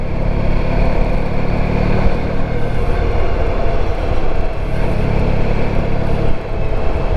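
Steady, loud engine drone and wind rumble from a 1994 Honda ST1100 motorcycle cruising on an open road, continuous throughout with no talking.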